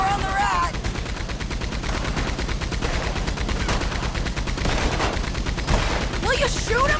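Rapid gunfire in the video game Red Dead Redemption 2 during a Western train robbery: dense, continuous volleys of shots crackle throughout, loud and close, with brief shouted voices and whistling sounds in the mix.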